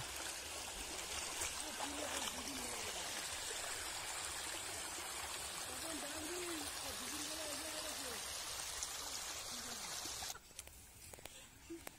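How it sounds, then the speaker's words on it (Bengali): Floodwater rushes and flows in with a constant loud broadband roar that cuts off near the end, and a faint voice is heard beneath it. "বন্যার জল ঢুকে গেল এত জোরে জোরে।"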